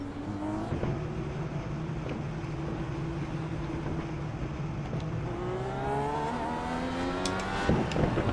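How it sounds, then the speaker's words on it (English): Race car in the iRacing game doing a burnout out of the pits, its engine revving in rising and falling tones over a steady rumble, ending in a louder burst of acceleration. "Burnout coming out of the pits."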